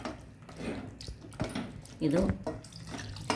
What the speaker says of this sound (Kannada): ತೆಳು ಹಾಲನ್ನು ಹಾಕ್ಕೊಳ್ಳೋಣ